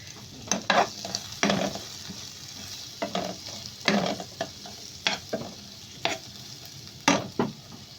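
Carrot pieces for vegetable fried rice sizzle in a pan while a utensil stirs them, with repeated scraping strokes and bursts of frying noise over a steady close crackle.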